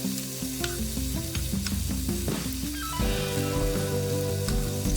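Chicken pieces frying and sizzling in a pan while being turned over for a chicken Alfredo penne pasta, a steady close crackle with stirring and scraping clatter throughout, no voices.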